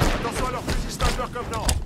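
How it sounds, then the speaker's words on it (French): Gunfire in Halo 5 multiplayer, a quick series of sharp shots in irregular bursts, close and loud, with a French-speaking voice under the firing. "J'ai des tirs dans la base bleue."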